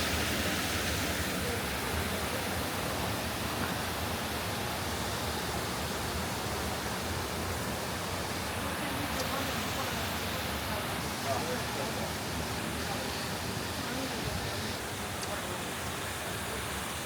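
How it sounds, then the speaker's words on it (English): Large waterfall in a Japanese koi garden, a steady broad rushing roar of falling water that fills the whole stretch evenly without breaks. "Really nice big waterfall here."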